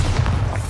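A Bombarda blasting spell goes off in a Harry Potter video game as one short, loud, deep boom with a low rumble that fills the whole moment.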